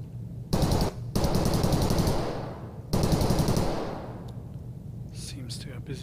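Loud machine gun fire in a video game, with rapid bursts repeated in a few long stretches, followed by quieter game sounds and a voice talking.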